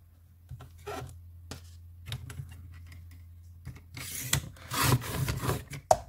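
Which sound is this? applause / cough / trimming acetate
trimming acetate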